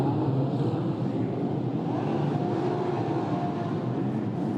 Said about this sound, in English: race director Daniele Galbiati, the green flag can be waved, the race cars can set off as well now.